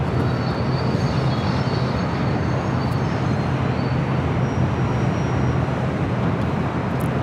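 A United Airlines Boeing 737-900ER arriving from San Francisco lands at LAX, a steady, loud broadband jet roar that holds evenly throughout with a faint high whine riding on top.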